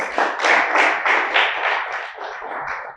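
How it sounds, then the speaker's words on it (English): Audience applause welcoming a minister of Social Development onto the platform at a ceremony in Lesotho, a steady burst of close hand clapping with rhythmic swells that fades slightly toward the end. "Let's give them a round of applause"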